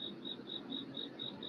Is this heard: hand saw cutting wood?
no